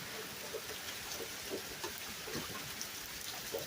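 Steady rain falling outside a home in Texas, a dense continuous patter with scattered louder droplet hits, fairly close and unbroken throughout.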